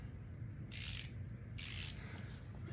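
The direction switch on a new Tekton foldable stubby ratchet flicked twice, each flick a brief bright metallic click with a short ringing rattle, close up over a steady low background hum.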